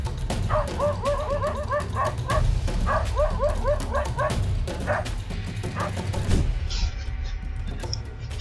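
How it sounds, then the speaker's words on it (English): A dog yelps and cries in fear after a jaguar attack, with repeated high whimpering yips in short bursts over a steady low rumble, fading into quieter rustling near the end. "when the dog jolts awake and screams in fear"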